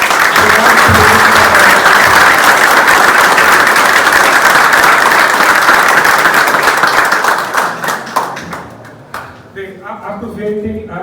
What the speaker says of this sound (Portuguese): Eu queria dar uma salva de palmas para a Thaís e todos esses meninos